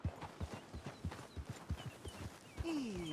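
Hooves of walking horses clop in a regular, fairly close beat, and a short high-pitched horse call rises briefly near the end.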